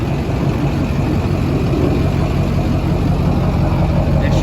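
A built Duramax diesel truck idles loud and close, its deep, rough engine rumble running steady and unbroken with no pauses.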